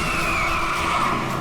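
A car with failed brakes skids, its tires squealing loudly and continuously in a sustained screech.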